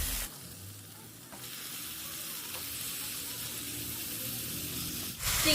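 Chicken frying with spices in a pan on medium gas, giving a continuous soft sizzle and hiss with faint stirring scrapes, fairly quiet and close, without talking.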